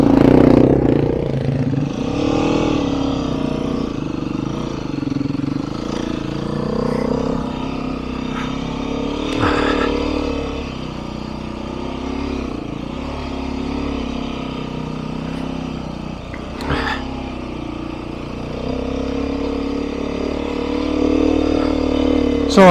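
Beta 390/500 dirt bike engine revving steadily while ridden, a continuous loud mid-pitched drone with rising and falling throttle swells, a few sharp blips, and voices talking over it.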